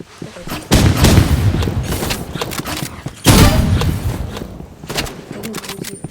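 Video game battle with gunfire and cannon shots: two heavy booming blasts land about two and a half seconds apart, each trailing into rattling shots and rumble, loud and close, with a voice faintly underneath.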